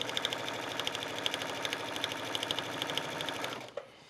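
Sewing machine stitching along the fabric edge of an A-line skirt waistband, a rapid steady run of needle clatter with sharp ticks, close and without talk, stopping abruptly near the end.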